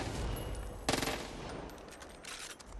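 Gunfire in Far Cry 5 on Xbox One: a sustained rattle of in-game shots with a louder, denser burst about a second in, then continuing chatter of fire to the end, with no talk.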